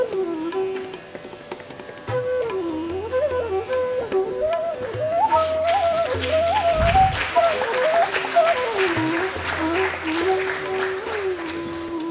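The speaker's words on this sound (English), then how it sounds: "Please give him a huge round of applause." An audience at a school annual day claps during an award presentation, the applause rising midway beneath a loud melodic music track that plays throughout.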